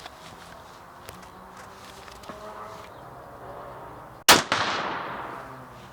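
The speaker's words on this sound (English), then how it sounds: "I'm going to take another shot," A single loud rifle shot rings out on a range while a GPO rifle scope is being sighted in, a sharp crack followed by a brief echoing tail, after quiet outdoor ambience.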